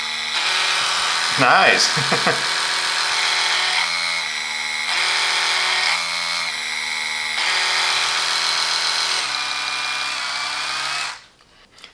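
Oral-B Pro 3 3500 Cross Action electric toothbrush running with a steady high-pitched whine, its speed pulsing in timed intervals before switching off, with a brief voice near the start.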